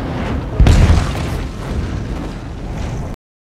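Burning whale oil aboard a whaling ship explodes in a sudden heavy boom with a deep low thump, followed by a rumbling, crackling roar that carries on for a few seconds before cutting off.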